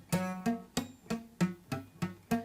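Guitar notes picked in a quick repeating pattern, each one cut short and dull rather than ringing, a steady rhythm of about eight plucks.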